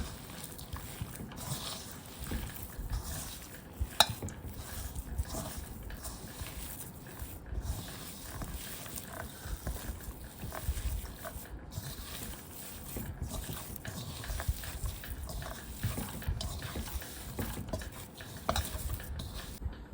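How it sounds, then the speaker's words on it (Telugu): Lentil flour is worked into dough by hand, added bit by bit until it forms a ball: soft, faint, continuous squishing and kneading sounds with no talk. "ఇలా కొద్ది కొద్దిగా యాడ్ చేసుకుంటూ కలుపుకోవాలండి ముద్ద అయ్యేలాగా"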